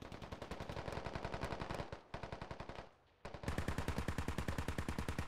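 Vehicle-mounted weapon in Squad, such as a BTR, pours suppressive fire in long rapid bursts of sharp, evenly spaced shots, briefly pausing before resuming, fairly faint and distant-sounding with no voices over it.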